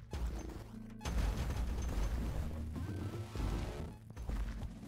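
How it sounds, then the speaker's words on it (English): Dense overlapping blasts and crashes from the action roguelite Wraithbinder erupt almost continuously, loud booming bursts with brief gaps, from a mass explosion strategy in combat. "Mass explosion strategy worked."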